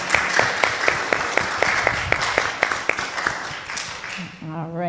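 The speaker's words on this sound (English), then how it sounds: "Thunderous applause." Church congregation at a United Methodist service applauding to thank teachers, a scattered burst of claps with a few sharp louder hits, tapering off as a voice begins speaking near the end.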